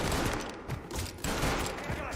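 Rapid bursts of gunfire from a firefight in Mafia Definitive Edition, dense overlapping shots filling the whole moment with a battle din behind them.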